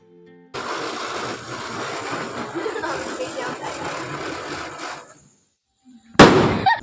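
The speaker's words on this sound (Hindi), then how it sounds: "फिर मैंने गई पटाखे फोड़ने के लिए।" Diwali firecrackers crackle and hiss in a dense, steady burst for several seconds. After a short pause, one loud, sharp bang follows close by.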